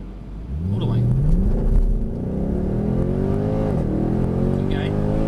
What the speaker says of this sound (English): So I just want you to accelerate really hard.